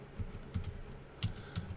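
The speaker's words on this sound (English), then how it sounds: "So if you start typing" Keys on a computer keyboard are tapped in a light, irregular run of soft clicks, close and fairly quiet, with no talking.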